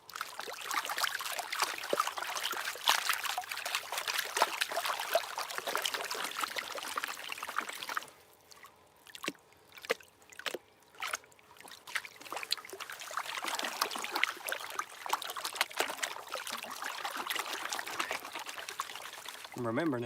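Water pours and splashes steadily while a gold pan is worked under water, with a brief quieter pause of scattered drips and clicks in the middle before the sloshing resumes.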